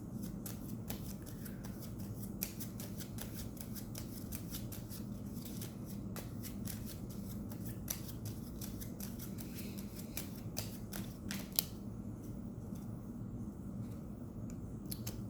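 Tarot cards being shuffled and pulled from a deck, a steady run of soft papery riffles and flicks close by, with no talking.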